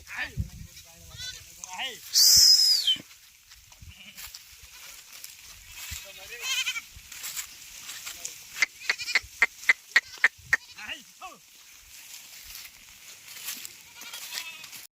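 A single loud sheep bleat rings out early in a village field, followed by scattered clicks, rustles and faint animal calls, with people talking in the background.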